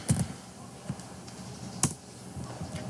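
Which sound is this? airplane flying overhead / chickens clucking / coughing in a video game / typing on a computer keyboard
typing on a computer keyboard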